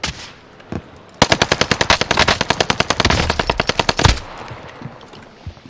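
Rapid gunfire in an online shooter video game, a loud burst of about twenty evenly spaced shots lasting roughly three seconds, standing alone after a quiet lead-in.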